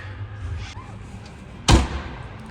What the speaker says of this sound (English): These are solid metal, very stable doors.